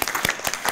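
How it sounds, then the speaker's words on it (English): A burst of audience applause at a tutor appreciation gathering, dense overlapping claps from a room full of people, loud and close, filling the short moment without any voice. "So a round of applause for them."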